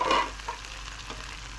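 Mustard greens for sarson ka saag hit a hot tadka of green chili in oil, giving a brief loud sizzle that settles into a steady frying hiss with light stirring scrapes, no talk.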